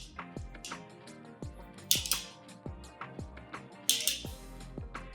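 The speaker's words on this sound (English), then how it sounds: "you'll hear a clicking sound when they fully engage" Three tripod legs being extended and snapping into their locked positions make a series of sharp close clicks and ticks, with a few brighter metallic snaps spaced about every two seconds.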